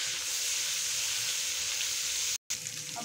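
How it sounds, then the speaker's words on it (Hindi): Spice masala with tomatoes and garlic-ginger paste fries in a pan for chicken haleem, a steady loud hissing sizzle that cuts out for a brief moment near the end before resuming, with no talking. "अपने मसाले को अच्छी तरह से फ्राई कर लेना है।"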